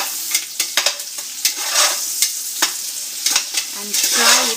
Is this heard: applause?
no